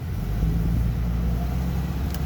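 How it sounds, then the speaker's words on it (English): Traffic on a nearby road by a town with churches, heard as a dense, continuous low rumble of passing cars that blends into one steady roar without a break. "There's a road, cars running on it."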